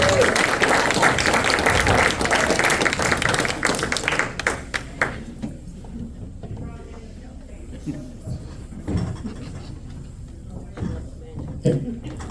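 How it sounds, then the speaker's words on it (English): A magic show audience in Stillwater applauds a volunteer with loud, dense clapping that lasts about four seconds and then drops away into quieter room noise with scattered taps and thuds. "Give a round of applause"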